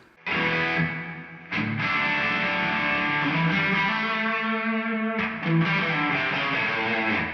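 An electric guitar plays sustained, distorted chords through an Eventide H90 vintage room reverb at full mix, with a brief break near the start and another around the five-second mark.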